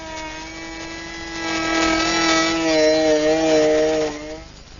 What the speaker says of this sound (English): I'm running the router at the slowest speed and not trying to do it all at once. I take my time and nibble the material away.